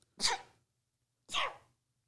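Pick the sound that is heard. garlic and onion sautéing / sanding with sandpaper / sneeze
sneeze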